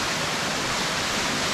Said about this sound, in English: down the river or creek or whatever you want to call this